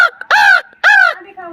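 A voice imitates a crow cawing: two loud, harsh, nasal caws close together, ending in a lower trailing note, near and clear in a quiet room.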